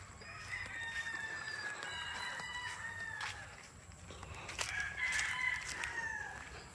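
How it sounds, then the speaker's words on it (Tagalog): Broodcock roosters on a farm crow repeatedly, two long drawn-out calls rising and falling at moderate distance, with faint clucks and farmyard ambience between them. "Yan po ang mga broodcock."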